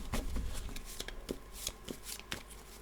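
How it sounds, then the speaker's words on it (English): Shuffling a deck of One Piece trading cards, a close run of crisp riffling flutters and snaps repeating quickly over a few seconds with no talking. "before drawing, we shuffle the deck"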